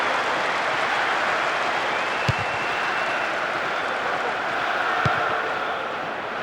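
Stadium crowd noise in the football video game PES 2008: a broad, steady roar of distant applause and murmur, with two faint thuds at intervals, no clear voices.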